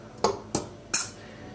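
Salt is stirred into flour in a bowl with a utensil, three sharp clinking scrapes against the bowl evenly spaced over a quiet kitchen background.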